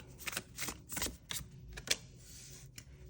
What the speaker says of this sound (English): I've got a bunch of decks here that we're just going to shuffle together